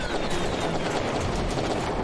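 Dense, continuous gunfire crackles and booms in a Wooden Battles video game battle at the Great Wall of China, a steady barrage of overlapping shots with no pauses.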